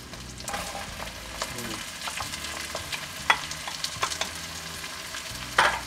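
Onions and garlic sautéing in a pan with pork and peppers: a steady sizzle broken by scattered sharp clinks and scrapes of stirring utensils, close and continuous, with no talking.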